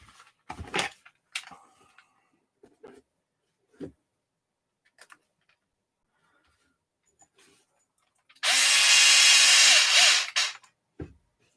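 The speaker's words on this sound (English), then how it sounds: "I don't drive the screws all the way in." A power drill drives screws into a metal spur gear upgrade on a Redcat Racing Kaiju RC car: one loud whirring burst of about two seconds, with scattered small clicks and handling taps around it.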